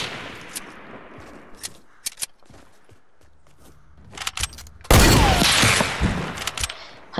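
Gunfire in a Fortnite match: scattered sharp shots and quick bursts crack out at varying distances, then a loud, close volley erupts and keeps rattling, with faint footsteps in the quieter gaps between shots.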